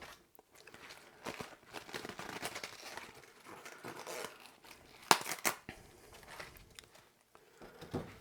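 Leaves being torn off a white cabbage by hand, close crisp crunching and tearing with a few sharper snaps, quiet and unaccompanied by talk.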